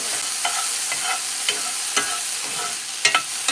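Food sauteed in a very hot pan: a continuous sizzle with sharp scraping and stirring clicks of a utensil at irregular intervals, fairly close, with no talking.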